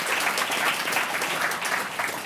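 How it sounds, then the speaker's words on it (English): Steady crowd applause at a community forum in Montreal, dense and continuous from start to finish at moderate loudness, with no voices standing out. "Can we give them a round of applause?"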